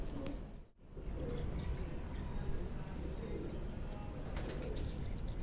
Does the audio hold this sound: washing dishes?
no